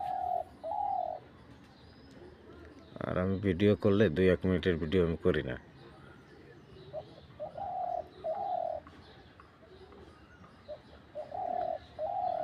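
Repeated short cooing bird calls sound in spaced bursts, close by, while someone talks loudly over the middle stretch.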